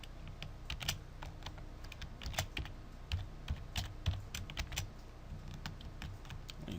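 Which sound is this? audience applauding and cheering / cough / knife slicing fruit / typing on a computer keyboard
typing on a computer keyboard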